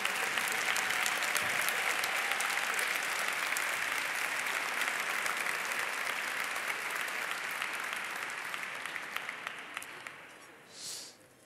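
Audience applause for biomedical engineering graduates at a university graduation ceremony, a long even round of clapping from a large hall that slowly tapers off, with a brief faint voice near the end.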